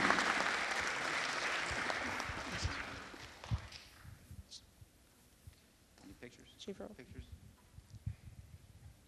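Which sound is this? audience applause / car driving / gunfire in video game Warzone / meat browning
audience applause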